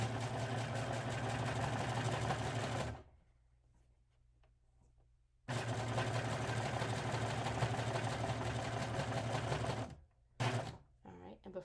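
A serger sewing machine stitches a shirt fabric seam in two sustained runs of fast, even whirring, loud and close, broken by a few seconds of near silence and ending in short bursts.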